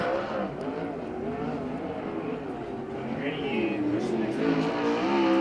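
A USAC sprint car at the Western World Championship runs its first qualifying lap along the top side of the track, a steady droning engine roar that swells louder toward the end, with an announcer talking over it.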